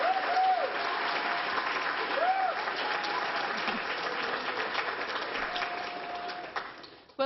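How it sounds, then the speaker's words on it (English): A conference audience gives a loud, sustained round of applause for a speaker, steady dense clapping that drops off abruptly at the end. "So let's have a round of applause for Carol."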